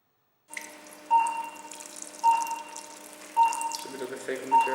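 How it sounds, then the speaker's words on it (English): Water is poured to rinse a horse's intestine during colic surgery, heard as repeated soft splashing pulses about once a second over a constant electronic hum and beeping of theatre equipment. "then we clean it off just with some water before replacing it in the abdomen"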